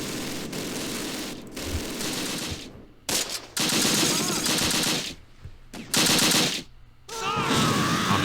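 Artillery shells slam into targets in the Close Combat wartime strategy game, a dense roar of rapid gunfire and blasts that runs in loud bursts with short gaps, sounding like a sustained barrage.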